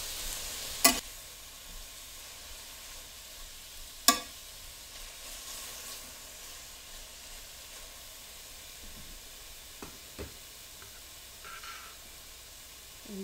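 Chard leaves and stems are stirred in a sauté pan for a kale dish, with a faint continuous sizzle and two sharp utensil knocks near the start.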